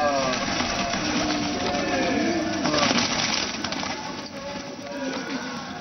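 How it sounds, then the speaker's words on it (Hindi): A busy chorus of cooing pigeons murmurs continuously over steady background noise, with many birds close together. "गुटरगू गुटरगू करते कबूतर"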